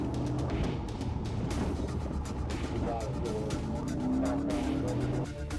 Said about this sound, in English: Even though the trooper's vehicle hits Alberto's car hard, Alberto manages to keep control and speeds up to about 60 miles per hour